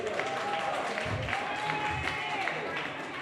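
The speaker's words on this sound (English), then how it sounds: "And that's the only one we're going to applaud for." An audience at a class reunion's hall of fame event claps briefly. The applause is a steady, moderate wash under a voice speaking over it.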